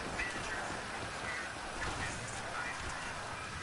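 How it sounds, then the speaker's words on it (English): Rain falls in the video game GTA 5, a steady, even hiss of downpour that holds at a constant level for a few seconds. "Why is it raining? Man, I don't like the rain."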